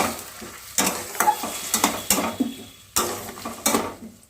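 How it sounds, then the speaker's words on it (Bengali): Ground spice paste is stir-fried in a pan for a green banana kofta curry, sizzling under repeated scraping strokes of a spatula, close and rhythmic. "মশলা দিয়ে ভালো করে কষিয়ে নিচ্ছি"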